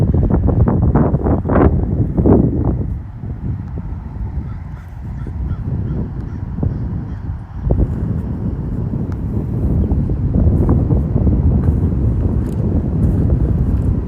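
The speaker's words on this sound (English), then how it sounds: "Wind speed today, too much wind speed to launch any aircraft whatsoever." Strong wind buffets the microphone at an RC airfield, a loud continuous low roar with gusty surges and faint distant honking bird calls in the background, no talking.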